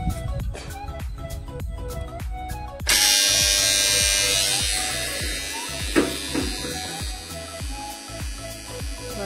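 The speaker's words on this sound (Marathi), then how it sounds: "चालू झाली मोटर." An electric water pump motor in a farm field switches on partway through with a sudden loud, steady buzzing whine. It keeps running close by and fairly constant, with a few faint knocks underneath.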